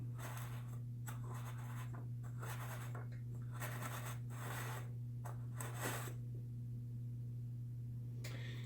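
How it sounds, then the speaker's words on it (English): An aluminum can turned against a pencil point scribes a line, giving bursts of soft dry scratching, several separate strokes with pauses, over a steady low electrical hum. "I'll turn the can on its top and rotate it against that pencil point"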